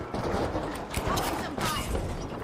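An explosion in the shooter game The Finals during a beta match: a dense, noisy roar of game action with a couple of sharper blasts standing out midway, continuous and fairly loud throughout.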